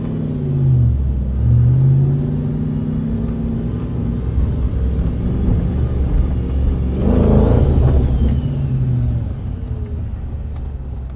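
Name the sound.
car driving at speed down the motorway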